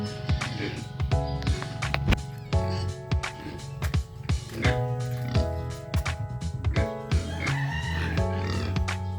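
Pigs at a pig pen under construction grunt and oink repeatedly in short, irregular bursts, close and fairly loud, mixed with clattering and other farmyard noise.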